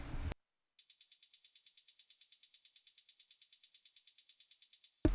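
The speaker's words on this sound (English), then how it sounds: "He kind of doubled the hi-hat speed, so it's like real fast, and it sounds like this." Rapid hi-hat pattern at doubled speed in an ambient-style beat, with reverb. Evenly spaced bright ticks repeat steadily for about four seconds, and each one has a soft reverb tail.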